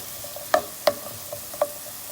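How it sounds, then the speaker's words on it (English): Onions and vegetables cooking in butter in a pan give a soft, steady sizzle, broken by a few sharp scrapes and clicks of stirring; no one speaks. "Be sure to mix these vegetables around in the butter as it's cooking so they don't burn."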